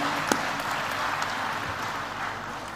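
An indoor audience at a presentation claps with a steady, even wash of applause that holds for a few seconds at moderate loudness, with no other sound standing out.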